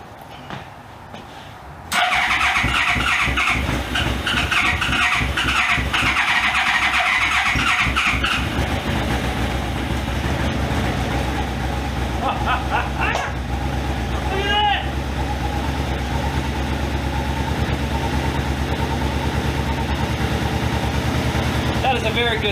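A Yamaha RSV motorcycle engine cranks briefly, then catches and settles into a steady, loud, close running rumble on choke. It holds a rough, even note, with a faint voice and some handling noise over it.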